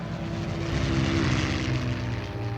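Several propeller aircraft fly over a Danish town on the morning of 9 April 1940, giving a steady, loud droning engine roar with a low throbbing hum that swells slightly and then holds, with no voices.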